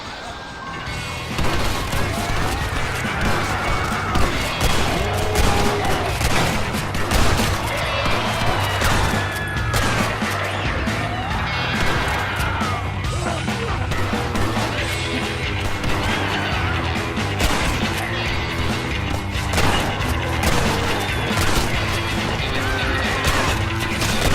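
Gunfire in Red Dead Redemption: Undead Nightmare, many loud sharp shots and crashes in a chaotic continuous barrage layered over a droning musical score, with some shouting voices.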